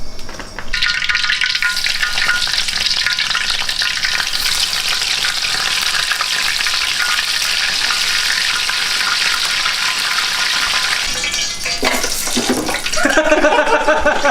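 Tempeh frying in a pan for a simple dinner: a loud, continuous close-up sizzle lasting most of the time, ending with a few brief clatters.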